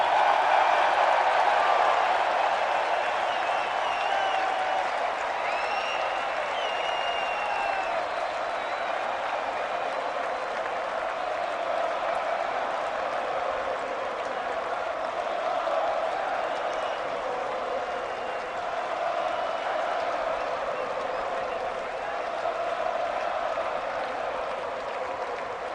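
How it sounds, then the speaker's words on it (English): A large stadium crowd applauds and cheers for a cricket captain announced at a match, a sustained roar of clapping and shouting that swells at the start and then holds steady. "the biggest cheer of the day when your name was called up there"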